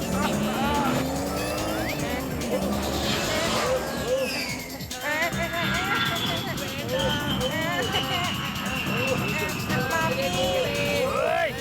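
A cartoon car turned into a plane, heard as a continuous whooshing engine drone with swooping pitch and zany effects, loud and unbroken throughout, under background music.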